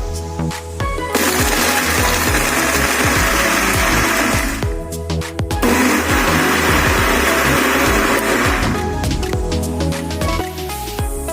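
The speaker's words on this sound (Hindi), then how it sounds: "मैंने इसको मिक्सी में ब्लेंड कर दिया, इसका फाइन पाउडर बना लिया।" A loud mixer grinder blends bread into fine crumbs, whirring in two long bursts with a brief pause between, its motor roaring steadily with a gritty churning texture.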